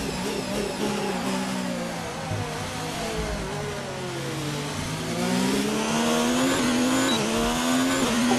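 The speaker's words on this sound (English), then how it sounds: "Ferrari hot lap." Ferrari Formula 1 car on a hot lap at Spa in the F1 2019 racing game, its high-revving engine screaming continuously with rising and falling pitch through gear changes, loud and close with no talk.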